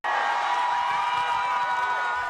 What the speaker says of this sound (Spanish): Saludó a un centenar de simpatizantes que la recibieron con una ovación y gritos de libertad